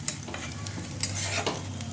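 Boiled potatoes simmering with spices in a pan for aloo dum, a soft continuous bubbling sizzle with a few light clinks of a spoon stirring against the pan.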